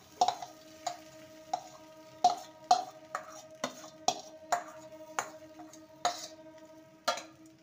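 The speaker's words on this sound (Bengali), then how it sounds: "ভালো করে নেড়ে নেব।" Puffed rice is stirred with nolen gur in a pan over a low flame, giving a series of distinct scraping clicks roughly every half second, close and fairly quiet with a faint steady background.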